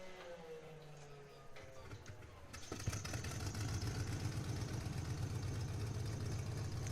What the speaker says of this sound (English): Leave the throttle cracked for a little bit as the engine warms up